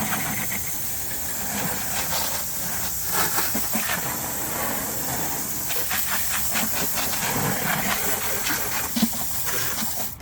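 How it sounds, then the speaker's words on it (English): A garden hose sprays water over a car engine in one last rinse, a continuous loud hiss with uneven splashing spatter as the stream moves across the metal, close and with no talking. "let me spray it with the hose one last time"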